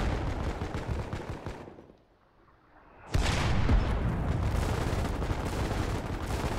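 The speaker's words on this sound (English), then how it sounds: "all artillery guns match that data on fire" Artillery guns fire in the war video game Foxhole, a loud close roar of booming blasts that cuts off into a short lull before another heavy sustained barrage erupts.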